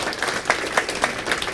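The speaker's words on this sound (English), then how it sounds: "Clap your hands if you got the vax" A comedy club crowd in Seattle clapping hands in response to the comedian, a brisk burst of scattered applause with distinct individual claps, moderately loud and close.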